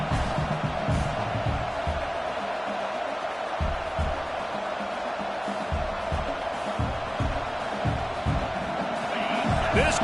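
Crowd noise in a college football stadium during a Clemson game, a broad roar of fans that swells and dips, with sharp thumps and bursts mixed in and a commentator talking over it.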